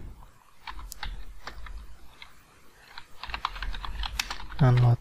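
VBA code for an Excel login form is typed on a computer keyboard: clusters of crisp, nearby key clicks in irregular bursts, followed at the very end by a short electronic tone.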